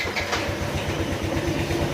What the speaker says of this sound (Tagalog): Pero yun, tunog ng makina niya